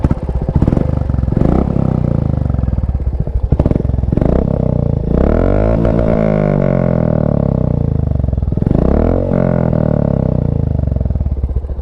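Royal Enfield Bullet 350 single-cylinder motorcycle thumps loudly at idle, then is blipped through several sharp revs that rise and fall in pitch, heard up close with no talking.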